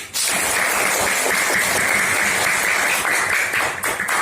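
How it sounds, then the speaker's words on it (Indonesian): Classroom of students clapping together after a teacher's call during a lesson on integer multiplication, a dense, steady burst of applause lasting several seconds, loud and close, tapering slightly at the end. "tepuk tangan dulu untuk kita"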